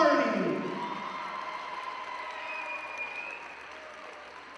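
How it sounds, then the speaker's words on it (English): A crowd applauds a women's college volleyball player at a home match, the dense clapping loudest at the start and then settling into a steady wash. Faint tonal whistling and a public-address echo ring through the arena. "Once again, let's give a round of applause."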